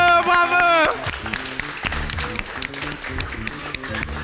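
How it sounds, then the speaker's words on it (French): A comedy show audience claps and cheers, the applause starting after a brief sung or voiced tone and continuing steadily with some talk mixed in. "Applaudissements pour Lydia, Mouzamil et Cheryl"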